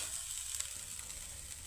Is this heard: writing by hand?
no